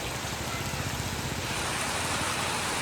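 Village rain in Botad keeps up a steady, dense hiss of drops on surfaces, eased to a lighter fall after a heavy spell, continuous and even throughout with no voices.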